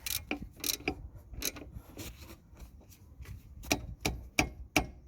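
A ratchet wrench tightening the bottom rear brake caliper bolt on a Vauxhall Antara, making quick bursts of sharp metallic clicks close up, separated by brief pauses in an otherwise quiet space.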